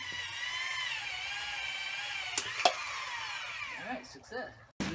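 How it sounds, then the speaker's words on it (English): Power drill boring an inlet hole for a hose in a homemade laminar flow fountain, a whining motor tone that holds then drops in pitch, with short clicks and a rough burst of drilling near the end. "We're now drilling an input for the hose."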